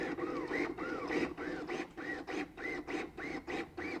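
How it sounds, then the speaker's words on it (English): A LUCAS II mechanical chest compression device runs continuous compressions in a steady rhythm, with roughly two whirring, whining strokes per second repeating evenly and fairly quietly, with no voices. "Press the active button for continuous compressions"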